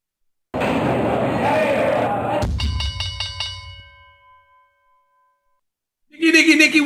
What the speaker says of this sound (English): Time for the opening bell.